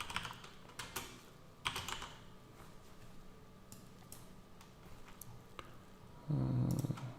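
Typing on a computer keyboard while entering a part search in PCB design software, a run of quiet, uneven key clicks with a few louder bursts, close and faint, ending in a brief low thud.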